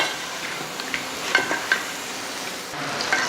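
Chicken pieces frying and being stirred in a tomato masala gravy in a pan, a steady close sizzle with a few louder stirring scrapes and spoon knocks throughout.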